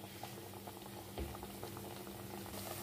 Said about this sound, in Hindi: अब इसमें हम डाल लेंगे और इसको हम हल्की आंच पे फ्राई कर लेंगे